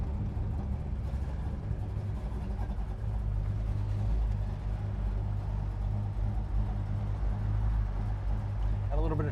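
A 1969 Dodge Super Bee engine idling at a traffic light, a steady deep rumble with a loping low-end pulse that holds near and moderately loud throughout, heard from inside the car.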